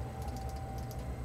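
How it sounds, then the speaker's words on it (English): Gateron green clicky switches on an 8Bit retro mechanical keyboard clatter in quick, crisp typing bursts, close and clear with no voice. "It is a Gateron clicky, a green clicky switch."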